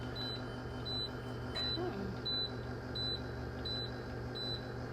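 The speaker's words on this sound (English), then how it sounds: "please turn the key switch on so you can get annoyed with beeping" A high electronic beep from a Super C RV after the key switch is turned on repeats at a steady pace, about once every seven-tenths of a second, over a low constant hum.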